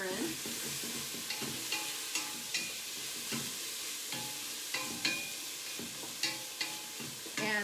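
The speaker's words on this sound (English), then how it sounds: "I'm just going to pile them in there and keep stirring." Pre-cooked mushrooms piled into a soup pot and stirred, giving a soft, moist hiss with a spoon scraping in repeated strokes at a fairly even rhythm, quiet and close, with no voices.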